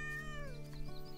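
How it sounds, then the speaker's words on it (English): A cat meows in the Garden Simulator video game as it is petted, a short tonal call with a falling pitch that sits under a steady background hum and game music. "Naturally, pet the cat."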